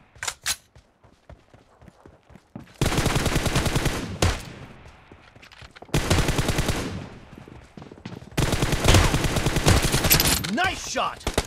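Gunfire from the video game PUBG in a team deathmatch. Rapid automatic bursts repeat three times, each several seconds long, with scattered single shots in between and a short voice near the end.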